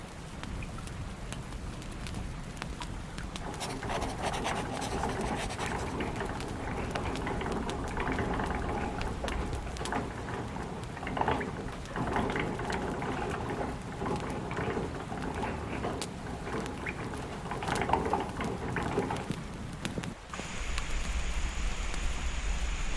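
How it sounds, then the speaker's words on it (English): Fountain spraying water in the point-and-click adventure game Lost Chronicles of Zerzura, a steady rushing, bubbling splash of falling water that holds constant throughout with no talking. "The fountain is spraying all the water."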